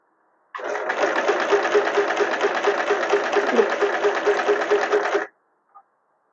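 A sewing machine stitches a rolled hem in one continuous burst of rapid, even needle chatter lasting several seconds, close and clear, then stops into silence.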